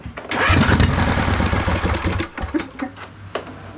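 A 2005 Husqvarna YTH2448 ride-on lawn mower with a suspected dirty carburetor cranks in a steady, loud, chugging whir for about two seconds. It then falters into uneven sputters and brief bursts as the starter labours without catching.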